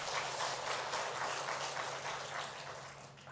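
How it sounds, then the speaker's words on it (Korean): Congregation applause during a Sunday worship service at a Korean church, a dense, diffuse wash of clapping over a low steady hum that holds evenly and then fades slightly toward the end. "주님께 영광의 박수 올려드립니다"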